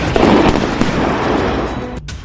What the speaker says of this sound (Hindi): धमाका अफ्रीका महाद्वीप के सोमालिया में हो रहा है